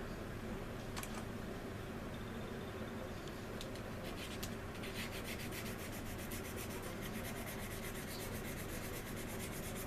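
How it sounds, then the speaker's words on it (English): Steady close rubbing of sandpaper on a joint of a resin Anigrand C-124 Globemaster model aircraft kit, a continuous soft scratchy hiss with faint light taps near the end, no talk. "Sand that joint down, fill in that seam right there."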